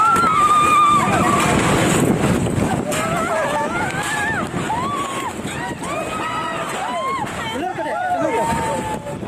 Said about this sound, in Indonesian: Warga panik berlarian menyelamatkan diri saat angin kencang datang.